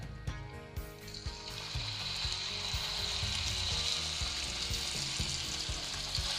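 Wild turkey cordon bleu browning in a frying pan, a steady sizzle and crackle of frying with faint clinks of stirring, close and continuous.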